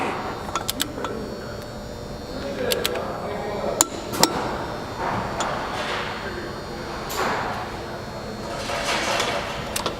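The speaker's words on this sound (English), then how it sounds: "And with the torque wrench, we'll tighten until we hear one click." Torque wrench tightening car wheel nuts, with several sharp metallic clicks spread through a quiet hum of the workshop and occasional faint rustling.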